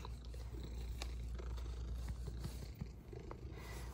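A cat purrs close and steady, a soft low rumbling drone with a faint rhythmic pulse, heard alone with no talking.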